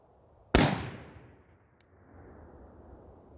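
A single sharp DDM4v7 rifle shot cracks loudly at close range, followed by a decaying echo and quiet outdoor background.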